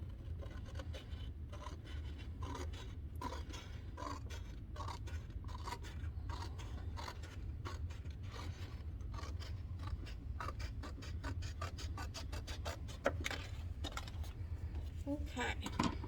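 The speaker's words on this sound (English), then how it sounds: "I'm going to take my big sheet and I'm going to cut another really thin strip off of it." Scissors cutting a thin strip off a large sheet of paper: a rapid, continuous run of small snipping and scraping sounds, fairly faint and close, with occasional quiet speech.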